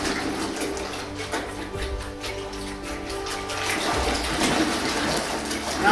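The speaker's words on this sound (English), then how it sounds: "Put it in my clean water," A paintbrush is swished and shaken in a container of clean water, a steady close sloshing and gurgling that continues throughout with light splashy bursts.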